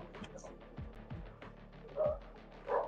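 A dog yips and barks at a distance in a quick series of short, faint calls, with a few louder high-pitched bursts near the end and no clear voices.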